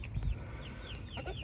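Chickens clucking in a coop at feeding time, a busy mix of soft clucks and short calls from several birds at moderate distance over a steady farmyard background, no one speaking.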